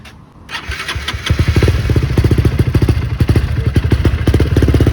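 A VF3i V2 motorcycle engine cranks and catches, then settles into a loud, rapid, even put-put rhythm close by.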